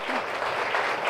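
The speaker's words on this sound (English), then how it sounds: "So big round of applause." Audience applause at an insurance company fund launch event, a steady wash of clapping from a crowd that stays even for its full short length.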